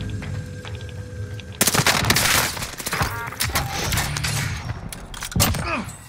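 Dense automatic and single gunfire in the Modern Warfare game on Rebirth Island, bursting loudly from mid-clip on with rapid rattling volleys and sharp cracks, with players' voices talking beneath the shooting.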